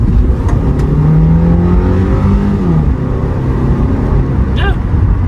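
A 2008 Subaru Forester with the 2.5 engine accelerating, loud steady engine drone close up from inside the cabin, pitch rising gradually.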